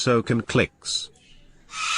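A pet cockatoo calls in a room, a few short harsh squawks and a longer screech near the end, with someone talking over the first part.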